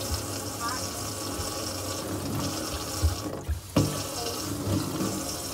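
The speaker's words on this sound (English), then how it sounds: "Now let me run the water." Water runs steadily from a Kohler pullout kitchen faucet into the sink, a continuous close splashing stream, interrupted briefly as the flow is adjusted, then resuming.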